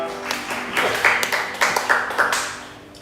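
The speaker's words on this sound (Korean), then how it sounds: "하나님께 박수를 올리겠습니다" A church congregation clapping during a Sunday worship service, a short burst of scattered claps and applause that rises and then fades within a few seconds, fairly faint.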